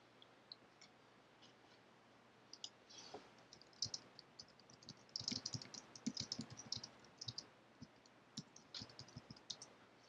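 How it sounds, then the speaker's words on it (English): Quiet, irregular clicks and clacks of typing on a computer keyboard, with rapid bursts of keystrokes and brief pauses, heard close against a faint background hum with no talking. "I'm typing on my computer and some chat windows and stuff as I'm recording this video"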